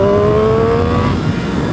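A 2018 Triumph Street Triple 765 RS revs hard through a power wheelie, a loud close engine note climbing steadily in pitch with wind rush behind it.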